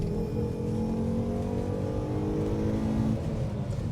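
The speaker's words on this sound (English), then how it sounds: "that 5-cylinder sounds great and very distinctive" A Volvo C70 T5 with its five-cylinder engine pulls hard in second gear, a steady throaty drone heard from inside, rising gradually in pitch over a few seconds.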